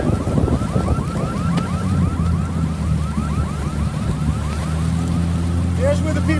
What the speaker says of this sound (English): Some sort of alarm going off here.